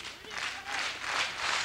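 At a 2000 FMW pro wrestling match, the audience claps in loose rhythmic waves, with roughly regular pulses of applause amid broad crowd noise, fairly loud and close, while voices are also present.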